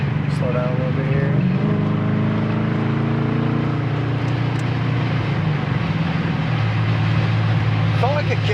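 1978 Pontiac Trans Am engine humming steadily at moderate revs while driving, with a low continuous drone and faint shifting tones, people talking over it inside the car.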